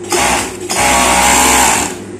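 An overlock sewing machine runs steadily while stitching a long seam, a close, continuous mechanical whir that dips briefly before carrying on at an even pace, with no talking.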